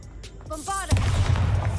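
The Bombarda blasting spell in a Harry Potter video game rings out as a short magical chime and whoosh, then erupts into a loud, rumbling blast that keeps crackling to the end.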